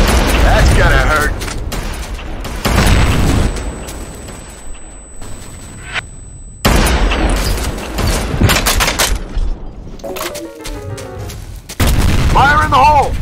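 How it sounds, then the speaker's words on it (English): Loud in-game grenade blasts in F.E.A.R. Combat multiplayer, several heavy booms with gunfire bursts between them, up close and filling the scene, with brief voice chatter in the mix. "Grenade out! That's gonna hurt."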